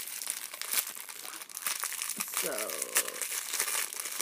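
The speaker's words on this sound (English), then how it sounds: "they come in a nice, just a little plastic bag" A small plastic bag from a subscription box crinkles and rustles as it is handled and opened, close up and moderately loud, with a person talking over much of it.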